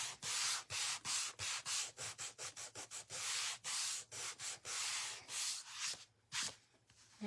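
A wooden quilt block kit being sanded by hand, with repeated rhythmic rubbing strokes of varying length, close and fairly loud, continuing steadily with no talking.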